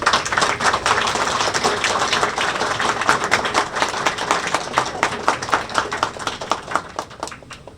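An audience at a ministerial installation ceremony claps for a minister, crisp individual claps in a lively, dense round that gradually thins and tapers off.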